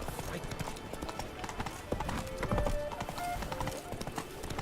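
Hooves of Roach, a horse ridden as a mount in a video game, clip-clop in a steady, continuous trotting rhythm, loud and close, while a voice speaks over them.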